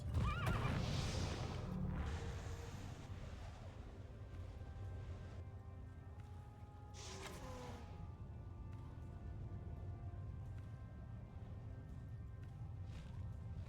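A horse in the video game Heroes of Might and Magic 5.5 whinnies loudly a few times over a steady low rumble and faint clip-clop, with no talking.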